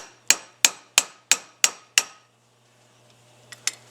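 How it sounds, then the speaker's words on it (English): A screwdriver is driven through a valve hole in a Carter M3158S carburetor from an AMC V8: six evenly spaced, sharp metallic taps ring close and loud, then a pause and two fainter clinks. "Just pick one of the holes and drive your screwdriver right straight through it."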